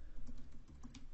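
Rapid typing on a computer keyboard while entering a web address in a browser, a brisk series of light, close clicks and taps with no one speaking.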